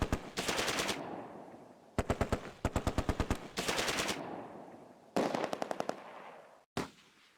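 Vickers machine gun fire in the World War II strategy game Close Combat, several sharp, loud automatic bursts separated by short pauses, no talking.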